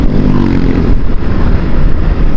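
A loud, close Sakalam Evo X motorcycle engine running with a low, even drone and a slight dip midway, no talking.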